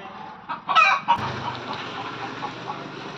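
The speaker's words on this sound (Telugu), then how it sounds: "చూడండి మా కోడి అయితే గుడ్డు పెట్టింది, అదైతే రాద్దాంతం చేసేస్తుంది." A hen clucks loudly after laying an egg in a village yard, a few sharp close calls early on, then a quieter steady background hum, no talk.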